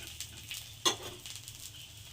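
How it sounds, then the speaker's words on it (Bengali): Pizza paratha frying in oil on a tawa, a soft steady sizzle with a brief sharper crackle partway through, fairly quiet with no talking. "তো তাওয়ার মধ্যে দিয়ে দিলাম। এবার আমি এর সাইড থেকে একটু তেল দিয়ে দেবো।"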